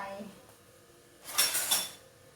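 A metal pot clatters onto a kitchen stove, set up to heat coconut milk for a beef and pumpkin curry; two bright, close clanks come after a quiet moment.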